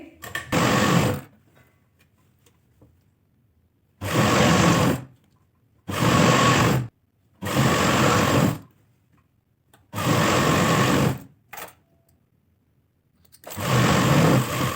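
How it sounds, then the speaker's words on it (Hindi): A sewing machine stitches a half-inch folded fabric hem for an Afghani salwar in six bursts of steady, close whirring, separated by short quiet pauses. "तो सबसे पहले हम आधा इंच का कपड़ा फोल्ड करते हुए सिलाई लगाएंगे।"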